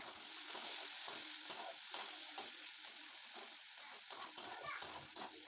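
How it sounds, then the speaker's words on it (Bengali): Fish frying in hot oil in a wok: a quiet, steady sizzle with soft intermittent crackles and stirring bumps, heard close and alone. "এবার মাছগুলো দিয়ে দেব। ভালো করে ভেজে নিতে হবে"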